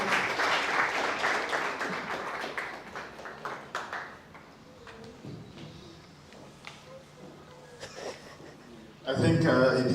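Audience applause at an HR masterclass, a dense burst of clapping in the opening seconds that thins and fades into a quieter room, then a loud renewed swell near the end.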